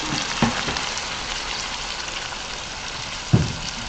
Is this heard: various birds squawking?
no